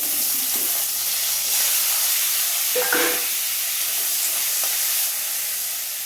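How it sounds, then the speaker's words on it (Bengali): Capsicum fries in a pan while cooking chilli paneer, giving a steady broadband hiss and sizzle throughout with a brief clatter midway and no talking. "দেখো ক্যাপসিকামটা আমার ভাজা ভাজা হয়ে গেছে"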